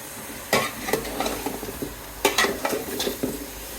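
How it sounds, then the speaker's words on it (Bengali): Shrimp with salt and turmeric is stirred in a pan for Bengali lau chingri, with a soft sizzle under a few sharp scraping and clattering strokes of the spoon against the pan, close and moderately loud. "এখন একটু নেড়ে নিচ্ছি"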